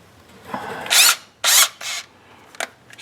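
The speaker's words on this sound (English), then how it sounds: "when I take a drill bit and don't just go and poke and push, I kind of let it center itself in the low spot" Drill bit cutting out a spot weld on a 1957 Chevy trunk, heard as short, close whirring bursts of the drill, two longer runs and a few brief blips, with quiet pauses between.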